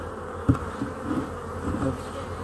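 An aggressive honeybee colony buzzes in a low, steady drone, fairly faint, with a brief louder thump near the start and no talking.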